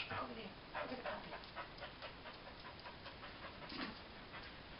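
A puppy pants in quick, rhythmic breaths close by, with soft whimpers mixed in, over a faint background hiss.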